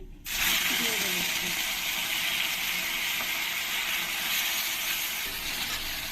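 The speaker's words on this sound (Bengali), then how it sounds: "এটা দেখো আমার ভালো করে ভাজা হয়ে গেছে এই আদা আর এই কাঁচা লঙ্কা" Ginger and green chilli paste frying in a wok gives a sudden onset of steady, bright sizzling that stays close and even throughout, with a faint voice briefly underneath early on.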